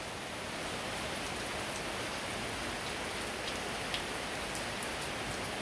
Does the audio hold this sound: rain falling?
yes